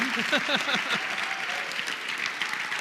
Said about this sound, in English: could we please give him an amazing round of applause